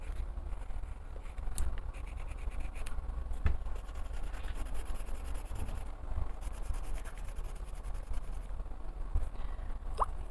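Dry pastel drawn across paper to lay in a background, giving a continuous soft scratching and rubbing with a few small taps, close and quiet throughout.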